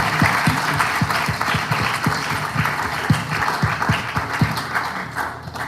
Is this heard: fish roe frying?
no